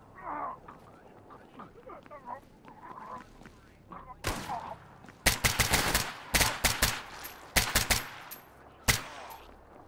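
Distant gunfire crackles in the video game Stalker GAMMA, with several sharp bursts of shots fired from far away across an open area. Quiet speech and background sounds fill the start before the shooting begins.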